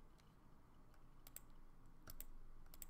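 A computer mouse gives a few sharp, light clicks close by during digital art work, scattered singly and in quick pairs over faint room noise.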